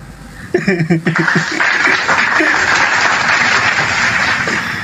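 A church audience breaks into applause that swells quickly and holds as a dense, steady wash of clapping, with a few chuckles mixed in.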